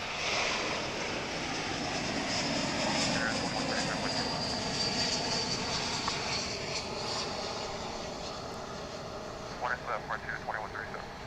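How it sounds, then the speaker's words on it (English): Airliner arriving from Cancun at DFW International Airport, a broad continuous engine roar with wind-like rush that stays loud throughout and eases slightly toward the end. "here comes the flight from Cancun in Mexico"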